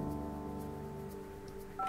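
Telephone dialing tones sound in the building-management video game Project Highrise, a sustained pitched tone with a new tone starting near the end, fairly quiet and without speech.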